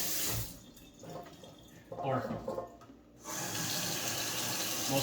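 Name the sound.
tap water filling a bucket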